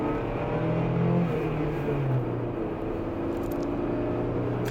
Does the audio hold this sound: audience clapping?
no